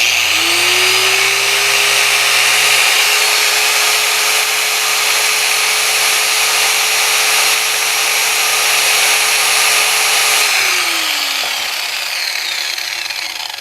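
A Harbor Freight angle grinder runs at no load with a loud, steady high-pitched whine that holds evenly for about ten seconds, then winds down as it is switched off near the end.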